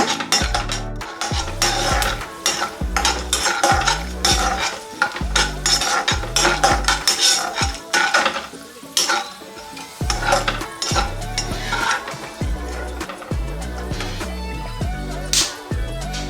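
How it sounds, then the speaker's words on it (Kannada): Peanuts being dry-roasted and stirred in a pan, a loud continuous rattling and scraping with rhythmic clinks of the spoon against metal, no voices. "ಕಡಲೆ ಬೀಜನ ಮೊದಲು ಹುರ್ಕೊಬಿಡೋಣ."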